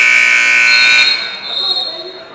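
A long, loud electronic buzzer blares across a high school boys' basketball game in a gym, holding steady for about a second before cutting off into crowd murmur and echoing voices.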